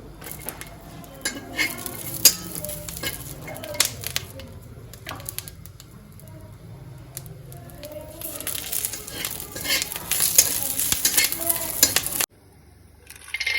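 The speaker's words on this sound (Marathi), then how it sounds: "मी मिरची आता थोडी भाजून घेते, त्यामध्ये हा लसूण पण टाकून घेते" Green chilies and garlic roasting in a pan, with light sizzling under frequent clinks and scrapes of a spoon stirring, growing busier toward the end before cutting off.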